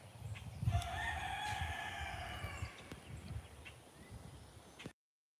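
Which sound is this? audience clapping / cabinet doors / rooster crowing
rooster crowing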